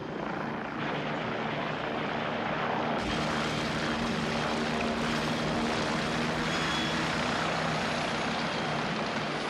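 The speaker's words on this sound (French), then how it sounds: "Voilà votre hélicoptère." A helicopter in an action-adventure film, a loud steady rotor and engine roar that holds throughout, with a sudden jump in intensity about a third of the way in.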